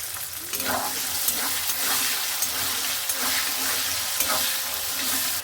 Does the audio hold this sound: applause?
no